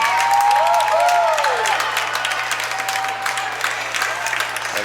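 An arena crowd applauds and cheers a youth hockey gold medal win in Calgary, a loud, continuous wash of clapping and cheering with a whistle-like tone early on.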